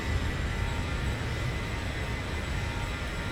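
Exterior engine noise of a Boeing 737-700 in the X-Plane 11 flight simulator, a loud, continuous broadband roar with a strong low rumble that holds steady throughout.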